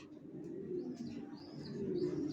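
Young racer pigeons, a male and female from one loft, coo softly with a few faint chirps over a low steady background.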